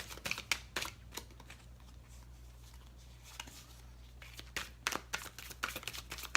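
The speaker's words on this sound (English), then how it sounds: "I like to shuffle in front of the camera" Rider-Waite tarot cards shuffled close up, a run of quick crisp snaps and flutters in uneven clusters over a soft steady hum, quiet and with no voice over them.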